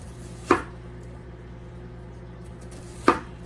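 A knife slicing onion thin on a cutting board while preparing caramelized onions for hamburger Salisbury steak, two separate sharp cuts about two and a half seconds apart, close and clear over quiet kitchen background.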